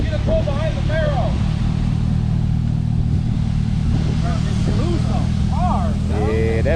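A car pulls up behind a Chevrolet Camaro 2SS at a car meet, with a continuous low engine rumble running under people chatting nearby the whole time.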